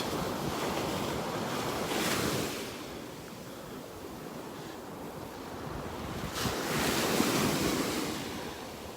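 Surf washes steadily onto a beach in North Naples, Florida, with two louder waves breaking around the second and seventh seconds, and wind roaring over the microphone throughout.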